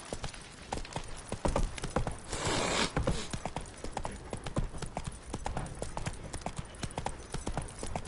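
A horse's hooves clip-clop in a steady trotting rhythm in The Witcher 3: Wild Hunt, close and distinct, with a brief swell of rustling noise partway through.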